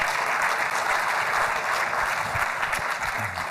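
Sustained audience applause at a real estate tech demo day event, a loud, dense crowd of hands clapping continuously, with a few faint voices underneath near the end.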